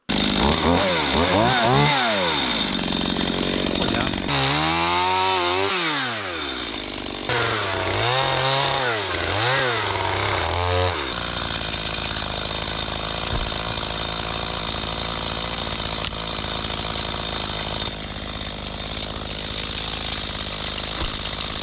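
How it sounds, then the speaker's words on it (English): A large chainsaw in the Alaskan backwoods revs up and down in repeated rising and falling bursts, then settles into a steady, loud idle drone. "Looks like I'm gonna go get the big boy chainsaw."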